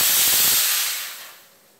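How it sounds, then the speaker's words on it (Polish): A Carmen Plus steam cleaner releases a loud, close burst of hissing steam that starts abruptly and fades out over about a second. "Spróbuję jeszcze pokazać, jak chemia, a czy jak para daje."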